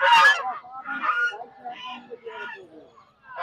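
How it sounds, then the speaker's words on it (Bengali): Domestic geese at a livestock market honking in a quick series of loud, close, nasal calls, one after another, with no other sounds between them. "এই সাইড দিয়ে অনেক রাজহাঁস উঠছে, প্রচুর হাঁস"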